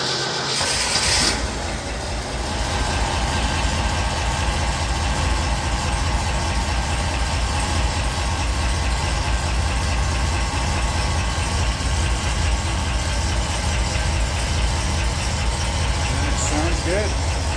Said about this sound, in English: now that it's all together, start it up